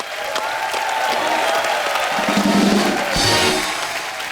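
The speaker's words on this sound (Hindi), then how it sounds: "सलमान भाई, सोहेल भाई और अरबाज भाई के लिए जोरदार तालियां हो जाएं" Loud studio audience applause and cheering on a comedy show, a dense sustained roar of clapping that swells near the end, with faint music underneath.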